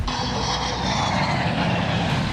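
Loud, continuous broadband roar of an airliner staged crash test filmed for a documentary, steady and close throughout with no pauses or voices.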